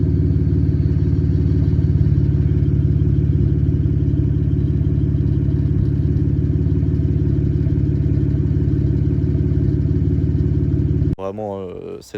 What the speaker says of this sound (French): Je vous ferai écouter le son juste après, mais le son de cet échappement, mais oh là là